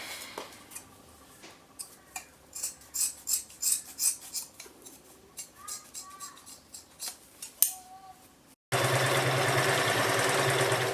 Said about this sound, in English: This kind of fabric is always difficult to cut.